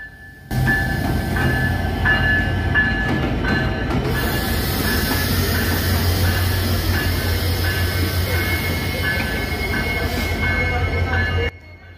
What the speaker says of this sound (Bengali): সাগরদাড়ি এক্সপ্রেস ট্রেনটি চলে আসে খুলনার উদ্দেশ্যে।